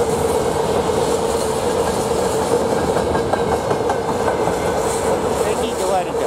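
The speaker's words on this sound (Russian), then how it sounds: "Видите, грузовой поезд спешит." A freight train rumbles past close by a station platform in Perm, its wheels clattering in a continuous, loud rhythm with a steady metallic roar.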